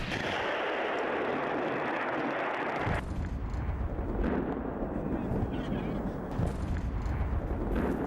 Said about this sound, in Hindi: डोनेस्क के कई इलाकों में भी भीषण बमबारी लगातार देखने को मिल रही है।